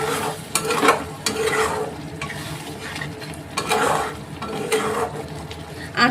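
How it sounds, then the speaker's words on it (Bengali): A spoon stirs shrimp curry simmering in a pan, producing repeated close scraping swishes in uneven bursts over a low bubbling sizzle, with no talking. "ভালো করে নেড়ে নেব।"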